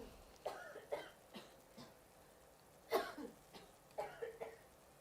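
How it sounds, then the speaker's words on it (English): Several soft, short coughs come in small clusters, spaced out by quiet pauses, close by with a faint background hiss. "Now cough gently."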